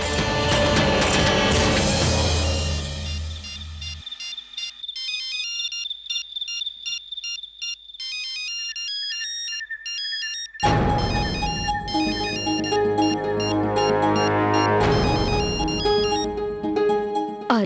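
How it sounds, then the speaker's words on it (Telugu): A mobile phone ringtone plays loudly at night in a home, a melodic electronic tune ringing continuously, then a brief sparse stretch before the full tune returns. "కాస్త చూడండి, మీ ఫోన్ మోగుతుంది."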